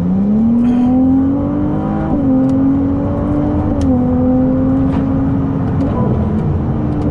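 Ferrari 296 GTB pulling hard in manual mode, a loud close engine note climbing in pitch with quick dips at each gear change, steady and continuous throughout.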